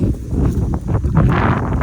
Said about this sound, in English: this is a windy day